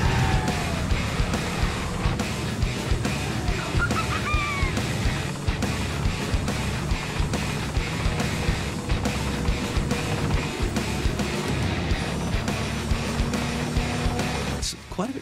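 A tank running at the AAF Tank Museum with a loud, steady engine roar and rumbling tracks that carry on throughout, close and dominant, with a few squeaks and clanks on top.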